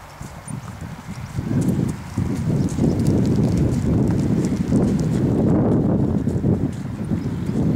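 Heavy horse hooves clip-clop steadily on the ground in a riding session, a close, continuous rhythmic stream of footfalls with some wind noise and no talk.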